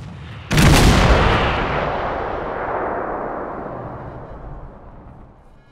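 An explosive charge detonates to disable an IED outdoors: one heavy, loud boom hits sharply, then a long rumbling roar slowly fades over several seconds.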